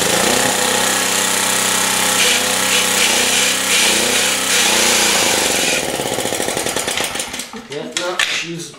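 A Generac G-850 generator with a Kawasaki engine runs loud and steady, a dense mechanical roar that keeps going for several seconds, then breaks into a rapid, sputtering pulse near the end as the engine stumbles.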